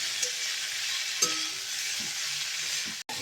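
Tomato and cabbage stir-fried in an oiled wok for hakka noodles give a steady soft sizzle, with a couple of faint utensil scrapes and a brief clack near the end.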